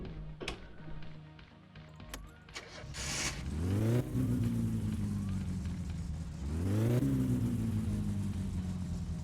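A car engine in the My Summer Car video game idles and then revs after its carburetor is tuned. The engine rises twice, revving up with a strengthening drone after some clicks and brief noises at the start.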